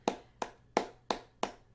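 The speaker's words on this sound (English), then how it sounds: "Guys, can we get a round of applause?" A single person claps slowly in a sparse, sarcastic-sounding round of applause, five distinct sharp claps evenly spaced about a third of a second apart, close and clear over a low background hum.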